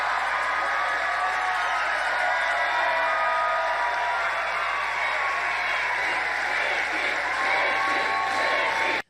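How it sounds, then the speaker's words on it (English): A crowd at a political campaign rally cheers and claps in a dense, sustained roar with scattered whoops, loud and unbroken throughout. "the crowd simply cheers"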